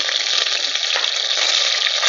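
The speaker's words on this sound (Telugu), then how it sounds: "పోపు దినుసులు అయితే చిటపట్లాడుతున్నాయండి" Tempering spices for a brinjal and black-eyed pea tamarind stew crackle and splutter in hot oil, a steady dense sizzle close by with no pause.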